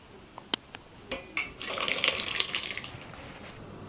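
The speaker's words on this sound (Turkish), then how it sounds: "bir tencerenin üzerine tel süzgeç koyarak burada oluşan peynirleri süzüyoruz" Homemade cheese curds are strained through a wire sieve set over a pot: a few sharp metallic clinks, then a splashy pour of liquid through the mesh, close and fairly loud.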